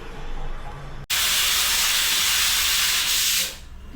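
A stovetop pressure cooker holding dal releases a loud, steady rush of hissing steam that starts abruptly after a brief pause and holds close and strong for over two seconds before easing off.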